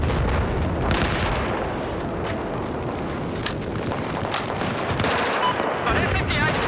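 Sustained machine gun fire in the video game Battlefield 4 on the Shanghai map, dense rapid bursts with overlapping gunfire and explosions, loud and continuous throughout.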